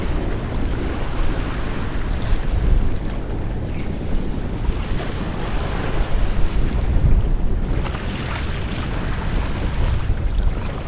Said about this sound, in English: And the waves have smoothed out a little.